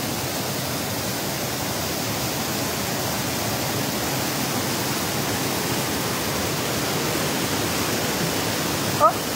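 Waterfall at Cascade des Combes near Saint-Claude, a steady, dense roar of falling water heard up close, even and unbroken, with a small knock at the very end.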